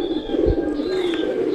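Pigeons coo close by, a soft low throaty call repeating over a steady background hum and faint higher chirps, with no speech.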